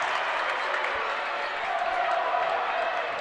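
Crowd noise fills a high school varsity basketball gym as fans rise and cheer after a three-pointer, a steady loud roar of voices and applause with no clear breaks.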